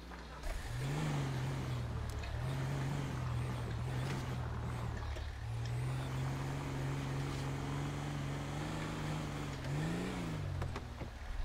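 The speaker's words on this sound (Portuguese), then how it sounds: "Um barulho de moto do lado de fora da comunidade." Motorcycle engine in the FiveM (GTA V) game during a police operation in a favela, a steady droning hum that rises and falls in pitch as the bike revs, continuous and fairly close, with no talk.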